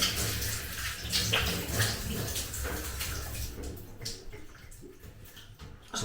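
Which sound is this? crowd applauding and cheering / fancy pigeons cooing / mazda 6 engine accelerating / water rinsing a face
water rinsing a face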